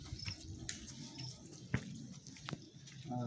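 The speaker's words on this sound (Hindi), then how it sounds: "ये वाली जोड़ रहा तो पानी चलने लगा।" Water runs from a tap in the store room of a hill temple, a steady splashing flow with a few sharper drips and knocks, close by and alone.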